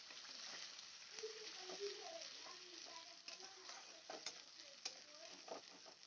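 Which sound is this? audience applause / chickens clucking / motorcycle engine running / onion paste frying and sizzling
onion paste frying and sizzling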